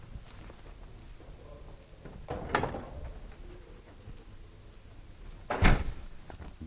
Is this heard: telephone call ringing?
no